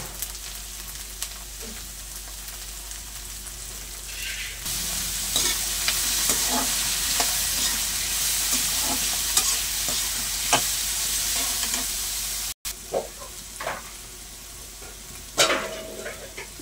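Capsicum and beans frying together with carrots for fried rice in a pan, a steady loud sizzle with stirring scrapes and clinks throughout, briefly cutting out near the end before resuming.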